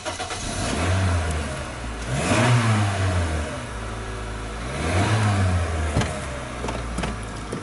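At a car auction, a car with 113,000 kilometres on it is held hard on the brake in drive while the engine is revved twice in long surging swells. It is close and moderately loud, idling steadily between the revs.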